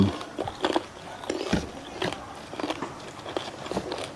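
Crispy fried German pork knuckle skin crunches under repeated bites, a string of close, sharp crackling snaps with short pauses between them and no talk.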